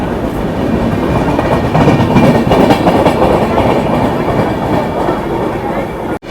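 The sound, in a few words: Sealdah Humsafar Express train running on rails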